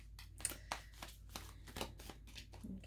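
Tarot cards shuffled by hand, soft papery riffles and flicks repeating at a steady, uneven pace, close and quiet with no talk.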